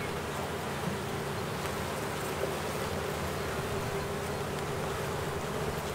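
Honeybees buzz in a dense, steady drone at an open hive during an early spring colony check, close and constant throughout with no talking.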